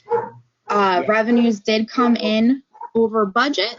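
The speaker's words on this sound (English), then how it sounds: "I'm sorry about my dog barking" Between stretches of a person talking, a pet dog yips and barks a few times in a home during an online meeting.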